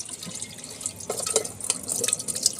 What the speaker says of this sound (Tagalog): Maglalagay tayo ng tubig dito.